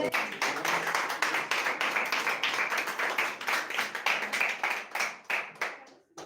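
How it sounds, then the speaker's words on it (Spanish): Steady applause from a group, many hands clapping densely and continuously, fairly close, fading out at the end. "Un aplauso, un aplauso."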